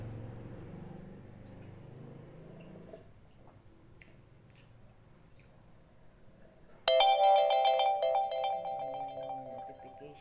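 A phone notification ringtone bursts in loudly and suddenly after several seconds of quiet room noise, a bright chiming melody that rings on to the end.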